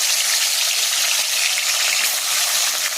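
Chicken pieces fry in hot salted oil with a loud, continuous, dense sizzle that holds steady and close for the whole stretch, with no talk.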